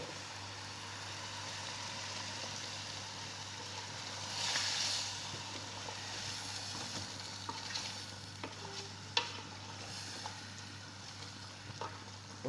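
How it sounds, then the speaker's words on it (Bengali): Chicken masala sautéing in a pan without turmeric, with ginger-garlic paste added, gives a steady close sizzle and frying hiss with occasional scraping stirs and clicks throughout. "হলুদ ছাড়া দেখছেন বুনা কীভাবে করছি"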